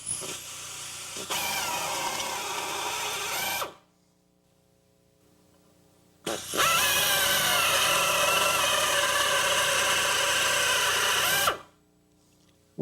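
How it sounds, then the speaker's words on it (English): A loud, larger power drill removes rivet heads from a car's control arm, running in two long bursts separated by a short silence, its motor whine steady and close. "Now use a larger drill to remove the head."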